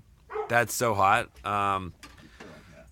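A dog at home gives a few short, pitched yips and barks in quick succession, close by, mixed in with people talking.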